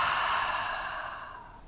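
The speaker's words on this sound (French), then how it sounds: "Et expire par la bouche." A long, audible exhale through the mouth at the end of a guided relaxation for the back, a close, breathy sigh that fades out over nearly two seconds.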